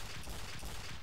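Rapid gunfire from the Team Fortress 2 video game: dense overlapping shots in quick bursts, fairly faint and muffled, with no voices.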